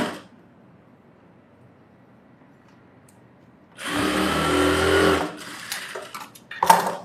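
A sewing machine stitches a fancy blouse, running quickly for over a second after a long quiet pause, then stopping and giving a few shorter bursts and clicks close by.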